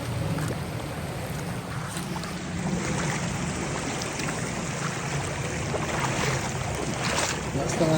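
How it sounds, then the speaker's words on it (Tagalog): Strong waves wash and slosh around a small boat, a continuous rough churn of water with wind noise that grows a little louder partway through and keeps up steadily. "Lakas ng alon."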